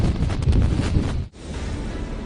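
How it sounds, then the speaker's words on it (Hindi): Strong cyclone winds buffet a Mumbai street in heavy rain, a loud roaring rush that briefly drops out for a moment before resuming as a steady blustery noise. "आप देख सकते हैं कि लगातार भारी बारिश हो रही है, तेज हवाएं चल रही हैं।"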